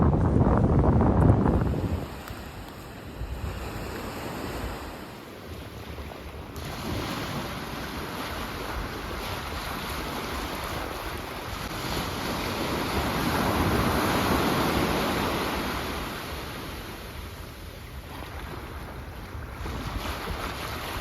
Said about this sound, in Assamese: এইখন হৈছে মৰজিম বিচ